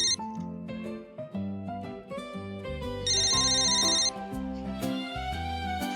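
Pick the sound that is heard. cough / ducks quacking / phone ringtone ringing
phone ringtone ringing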